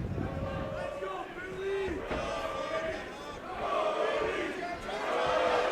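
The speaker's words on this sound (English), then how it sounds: "This sold-out crowd going crazy for hometown boy Kody McGehee." A sold-out mixed martial arts crowd cheers wildly for a hometown fighter during a five-round bout, a loud, sustained roar with surging whoops and shouts that swells and dips over several seconds.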